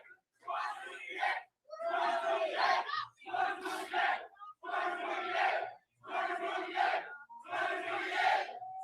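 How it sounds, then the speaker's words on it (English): A crowd at a political rally chants a short slogan for Thomas Massie in six loud, evenly spaced bursts with brief pauses between, many voices shouting together in a steady rhythm. "the crowd, chanting 2028 for Thomas Massie"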